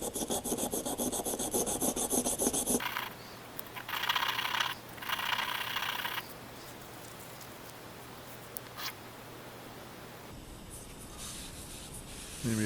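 Hand filing burrs off a metal part: a loud steady rasping for about three seconds, then two shorter strokes, followed by quieter scraping and a soft low hum, with a final rasp starting right at the end.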